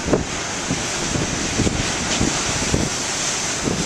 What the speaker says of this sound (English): Each time I come here, the waves are a little different